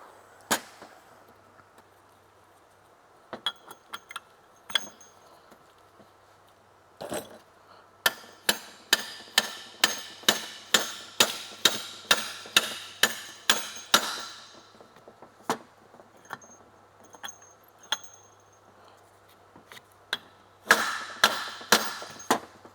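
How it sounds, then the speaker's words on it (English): A hammer taps a needle bearing into the aluminum rear differential housing of a Honda ATV, scattered sharp metallic knocks building into rapid bursts of close, clanging blows with short pauses between runs, no talking. "Now we've got that little needle bearing pushed all the way in there."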